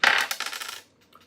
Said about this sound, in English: I'm gonna roll the dice on this